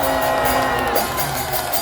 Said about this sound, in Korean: 큰 박수 한번 해주십시오.